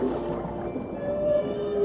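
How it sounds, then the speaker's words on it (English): Song of an adult male humpback whale: a loud, sustained tonal moan that wavers and rises slightly, heard alone with no talk. "Wait, that's whale song."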